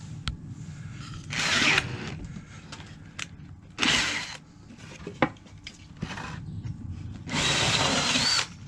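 A power drill bores holes in wooden nest box boards, with several loud bursts of whirring drilling separated by quieter handling clatter and scraping, close up and with no talking.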